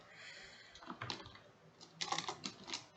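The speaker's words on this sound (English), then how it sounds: "let's type" Fingers tap quickly on a computer keyboard in short irregular bursts of soft, close clicks, with no talking.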